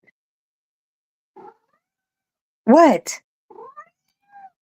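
A house cat gives one loud, close, drawn-out meow, with a few short softer mews before and after it, while a person speaks briefly in a quiet room.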